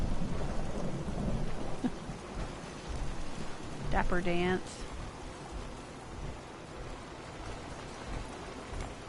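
Steady rain hiss with low rumbling thunder in the video game Fallout 4, constant and moderately loud, as a brief character voice and a short sung melody play over it.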